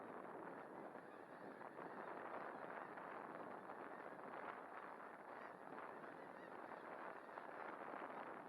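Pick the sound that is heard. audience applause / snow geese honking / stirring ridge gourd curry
snow geese honking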